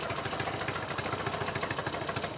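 A Norton Commando motorcycle engine running steadily, with a fast, even pulse of thudding beats and a bright mechanical clatter, close and loud throughout.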